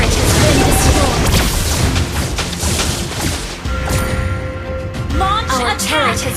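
A turret being destroyed in the Mobile Legends video game, with booming explosions and crashing impacts that fill the whole stretch, dense and loud, with game voice effects and tonal chimes layered over the blasts.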